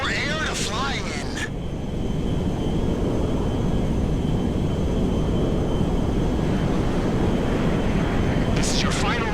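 A big plane flies low in the GTA 5 game, its broad roaring engine drone filling the scene continuously and loudly, with brief whooshing sweeps at the start and end.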